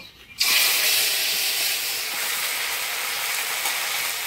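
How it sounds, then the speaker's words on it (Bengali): Whole cumin seeds and bay leaves hit hot oil for a Bengali fish curry, bursting into a loud, sudden hiss after a brief quiet moment and holding as a steady, close sizzle. "ফোড়নে দিয়ে দেবো গোটা জিরা, তেজপাতা"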